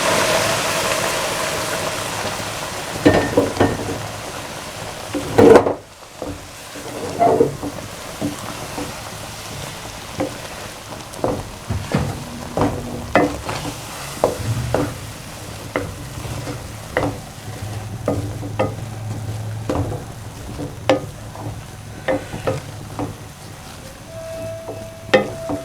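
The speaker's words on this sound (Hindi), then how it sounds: "इस तरीके से आपने इसको हिलाते जाना है, अच्छे तरीके से साथ साथ भूनते जाना है।" A spoon stirs and scrapes through aloe vera halwa roasting in a pan with sugar syrup over moderate heat, giving a steady low sizzle broken by repeated close scraping strokes.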